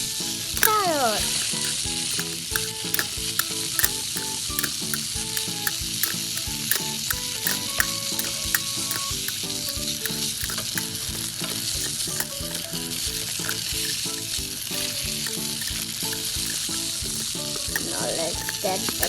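A toy kitchen plays a sizzling cooking effect for a toy carrot, a loud, steady electronic frying hiss with regular clicking pulses and brief tonal beeps, running throughout.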